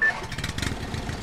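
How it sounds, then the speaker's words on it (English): An old car's engine starts up in the driving game Jalopy: a short burst of rough, sputtering mid-pitched rumble that settles into a steady chugging, loud and close, with no voices. "Let's start up the engine."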